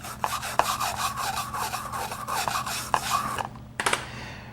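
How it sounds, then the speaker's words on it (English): A dedicated aluminum wire brush scrubbed across an aluminum joint before TIG welding, with rapid rhythmic rasping strokes, close and steady, then a brief pause and a few final scrapes. "I'll use my dedicated aluminum wire brush to clean the joint"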